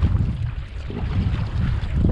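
Gusty wind rumbles steadily against the microphone on a kayak on Puget Sound, a continuous close buffeting with faint water noise underneath.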